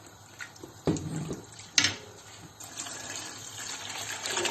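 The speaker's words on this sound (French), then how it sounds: "Je vais rajouter l'eau, la carotte." Water pours into a cooking pot of lentils and carrot, a close splash and gurgle with a couple of sharp clinks, alone without talk.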